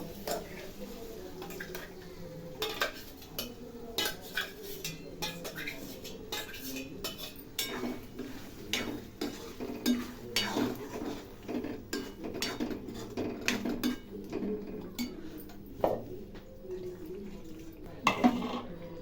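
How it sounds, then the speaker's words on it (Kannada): Chickpeas stirred into a spiced tempering in a metal pan, a spoon scraping and clinking against the pan in steady irregular strokes with a faint sizzle beneath, close and fairly quiet. "ಈಗ ಒಗ್ಗರಣೆ ಒಳಗೆ ಕಡ್ಲಿಕಾಳು ಹಾಕಿ ಎಲ್ಲ ತಿರುವಾಡೈತಿ"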